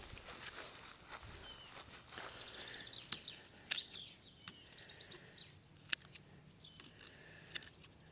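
Hand shears snip grass around a bronze grave marker outdoors, with scattered sharp clips and rustling against faint bird chirps in the background; no one speaks.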